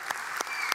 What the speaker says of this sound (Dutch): Een daverend applaus voor wat ze hebben neergezet natuurlijk.